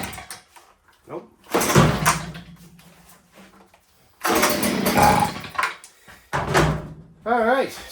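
A Stihl leaf blower engine is pull-started on half choke and fails to catch, giving several separate bursts of cranking and sputter with quiet gaps between them, heard up close.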